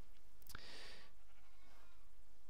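A sheep bleats once in the video game Minecraft, a short, clear, nasal cry standing out over a low, quiet background.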